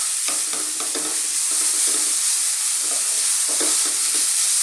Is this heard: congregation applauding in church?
no